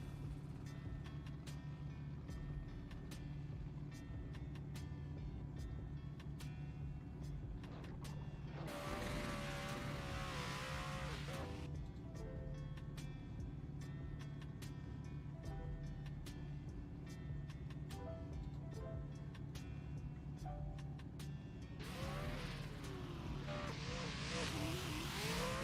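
Drift cars racing at Englishtown in a CNDS drift competition, engines droning and revving continuously with two bursts of loud tire squeal and skidding, heard from a distance.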